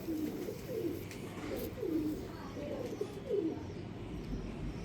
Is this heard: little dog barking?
no